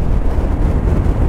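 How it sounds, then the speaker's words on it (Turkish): Strong wind gusting steadily at an open cemetery and martyrs' burial ground, a dense low roar buffeting close by with no pauses and no voices. "nasıl esiyor lan? Rüzgarın sesini duyuyorsunuz mu?"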